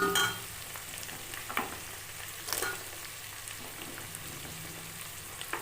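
Onion and garlic sauté in a pan, making a steady close sizzle and fry that runs throughout. There are occasional stirring scrapes and clinks, and no one speaks.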